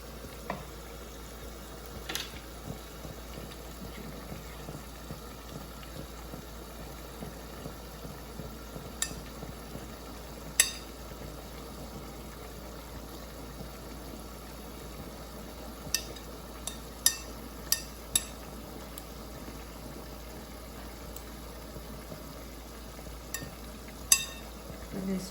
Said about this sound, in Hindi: तो अब मैं इसमें अपनी मैक्रोनी डालती हूँ